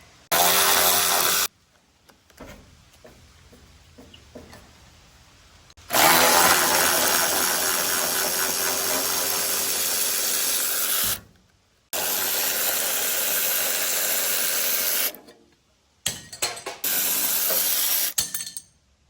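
A power tool, likely an impact driver, works loose door hinge bolts on a barn, several loud sustained bursts separated by short silences and a quieter stretch of faint handling noise.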